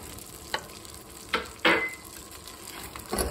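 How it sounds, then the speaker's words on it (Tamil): Cashews being fried in a pan for rava kesari, with several short sizzling bursts and stirring scrapes over a low steady background hiss. "இந்த முந்திரியை கொட்ட கலர் மாறும் மட்டும் நான் வறுக்கிறேன்"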